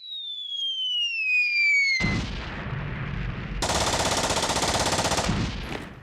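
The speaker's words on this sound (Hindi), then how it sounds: "दुश्मन के खिलाफ अकेले मोर्चा संभाले हुए फायरिंग कर रहे हैं" Comedy-skit gunfire effect for a lone soldier firing at the enemy: a descending whistling tone, then a sharp blast and a long, loud rapid machine-gun burst of evenly spaced shots, with no talking.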